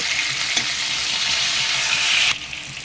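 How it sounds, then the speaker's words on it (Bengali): Potatoes frying with turmeric for Kashmiri dum aloo make a loud, dense, hissing sizzle that holds steady, then drops abruptly to a quieter crackle near the end. "কিছুক্ষণ আলুগুলোকে ভেজে নেব"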